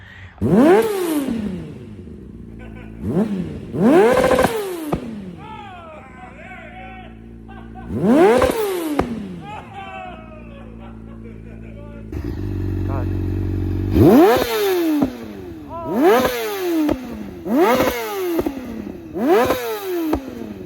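A 2008 Honda CBR600RR with a full titanium Akrapovic exhaust revs repeatedly, each loud close blip climbing sharply and falling back to a rumbling idle, with quick bursts of rapid revs near the end.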